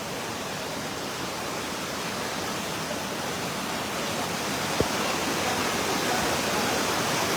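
Floodwater rushes through Subulussalam, Aceh, in 2024 as a steady, dense roar of moving water that stays even and close throughout, broken only by one brief sharp click near the end, with no voices.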